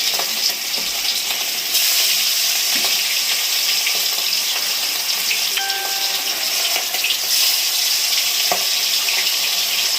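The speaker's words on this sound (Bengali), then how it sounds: "মাছগুলো ভেজে নেবো এক এক করে।" Pieces of aar fish fry in mustard oil in a kadai, a loud, steady sizzle and crackle that holds close and continuous, with a few faint clinks of utensils and no talking.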